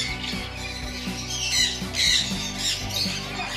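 Birds at the Yelagiri hills bird sanctuary squawk in repeated sharp, harsh bursts that come close together, fairly near and uneven in rhythm, over a low background hum.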